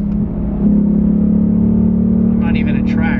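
A Ford Mustang Mach 1 with a Corsa X-pipe exhaust drones steadily from inside the moving car, the low engine note swelling after a brief dip as it revs, with voices briefly audible near the end.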